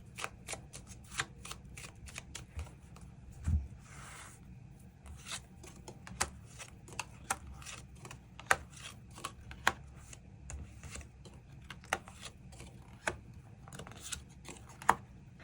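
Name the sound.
shuffling and drawing tarot cards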